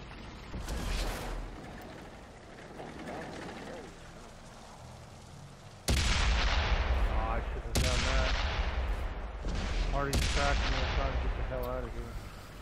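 Tank cannon fire in World of Tanks on Xbox 360, with several loud booming shots from about six seconds on, each followed by a ringing tail, over quieter game sounds and background talk.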